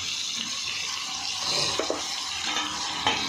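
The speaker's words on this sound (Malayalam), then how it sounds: "നല്ലവണ്ണം ഒന്ന് വഴറ്റിയെടുക്കണം." Chopped onions and three tomatoes for chicken curry sizzle softly in a pan, a steady low frying hiss broken by a few stirring scrapes, close and without talk.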